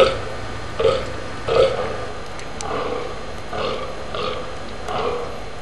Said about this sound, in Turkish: Böğürmeler, dişilere bir çağrı olduğu kadar, "Burası benim bölgem, uzak dur" anlamını da taşır.